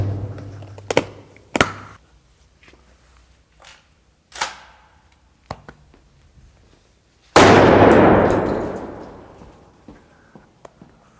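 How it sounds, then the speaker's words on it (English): A 12-gauge shotgun fires one loud close blast at a Pelican hard case, its boom and echo decaying over a few seconds, preceded by scattered sharp taps and clicks. "going to see what he can do with his 12-gauge shotgun"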